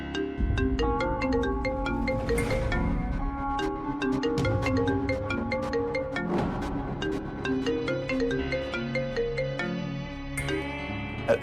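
A phone ringtone plays as a bright, repeating electronic melody, loud and continuous for several seconds with no voices.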